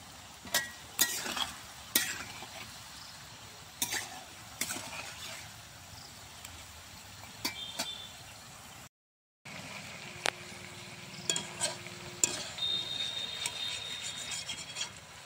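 Palm fruit flatbread frying in a pan, giving a soft, continuous sizzle with occasional scraping and tapping of a utensil, heard quietly and up close.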